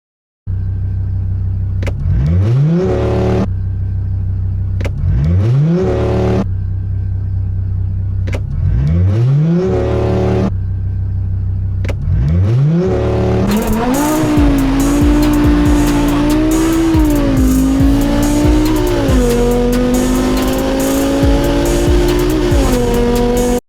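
An Audi RS3 tuned to about 600 hp and a stage 3 BMW 340 with 610 hp launch hard from a standstill in a drag race. Loud revving bursts repeat, then engines roar in sustained acceleration with tire squeal, and nobody speaks.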